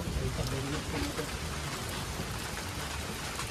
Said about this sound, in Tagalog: Ulan na hapon.